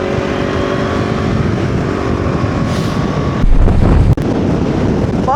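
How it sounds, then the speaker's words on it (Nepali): Strong wind roars into the microphone in Upper Mustang, a loud continuous rumble and buffeting, with a harsher gust partway through and a brief dropout. "हावा पनि कस्तो नराम्रो चलिरहेछ यहाँ"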